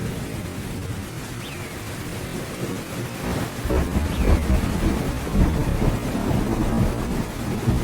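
Heavy cartoon rain pours steadily as birds shelter in a tree, a dense continuous wash of noise with low rumbles swelling midway, plus faint bird chirps.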